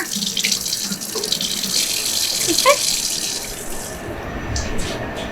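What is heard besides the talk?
tap water running over chilled Mars bars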